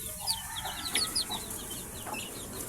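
Gray chicks peep and cheep in high, quick chirps scattered across a short stretch, faint over a soft steady background hiss.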